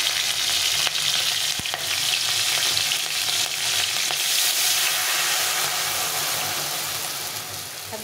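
Mustard and poppy-seed water poured into a pan of frying pabda fish curry with black cumin and green chillies, a loud steady hiss and sizzle bubbling continuously, slowly easing off toward the end.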